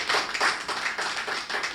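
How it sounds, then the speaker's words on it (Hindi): A small audience at a Hindi poetry gathering claps, a fairly quiet burst of distinct hand claps in a loose, slightly rhythmic pattern, close and without talk. "मेरे स्वागत में दोबारा जोरदार तालियां बजाएं"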